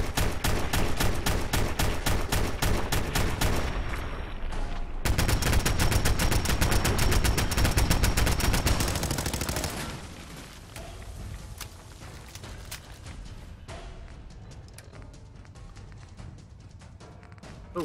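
Rapid automatic gunfire in the video game Fallout 4 on survival difficulty, a dense loud stream of shots for about ten seconds, then continuing more quietly under layered game sounds.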